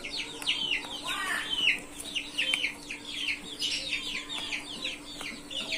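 Young Aseel chicks chatter with a steady stream of short, bright clucks and chirps while being fed in hot weather, close and continuous, with a faint steady hum underneath.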